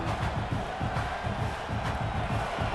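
In the College Football 26 video game, a stadium crowd gives off a dense, steady roar of cheering that stays loud and continuous throughout.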